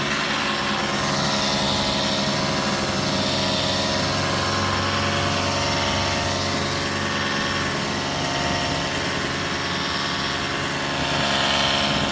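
A Ryobi battery-powered pressure washer rinses soap off a surface, giving a steady, continuous motor drone with a broad hiss of spraying water, loud and unbroken throughout.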